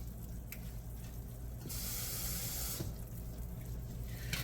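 Water runs from a kitchen tap into a container, a soft steady hiss that swells louder for about a second in the middle, faint and close with no talk.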